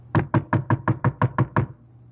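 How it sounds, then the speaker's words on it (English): Nine sharp knocks on a wooden door come in a quick, even series, close and loud with no other sounds. "The wolf knocked on the door."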